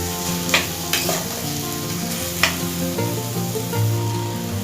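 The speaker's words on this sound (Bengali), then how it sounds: "টমেটোগুলো দিয়ে কিছুক্ষণ একটু ভাজবো।" Tomatoes sizzling steadily in a hot pan for a Bengali wedding-style chutney, a continuous close frying hiss with a few sharp spoon clicks and stirring scrapes, no talk.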